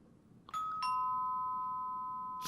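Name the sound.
doorbell ringing in video game Captain Spirit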